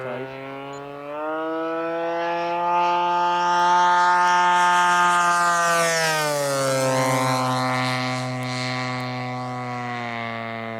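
A giant Top Flite P-40 radio-controlled model warplane makes a gear-down low pass, its engine whine rising in pitch as it approaches and dropping as it passes, loud and alone with no talk.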